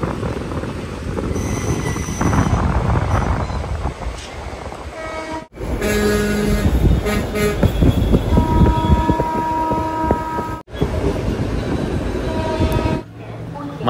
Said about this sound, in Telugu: మన ట్రైన్ అయితే అరగంట లేట్తో తాంబరం స్టేషన్కి వచ్చిందనమాట